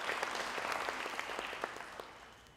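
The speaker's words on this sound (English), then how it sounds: "Let's also give Dr. Mnguni a big round of applause." Audience applause for Dr. Mnguni at a mayoral ceremony honoring top-performing schools and matriculants, steady crowd clapping with scattered sharper claps, fairly faint and fading slightly toward the end.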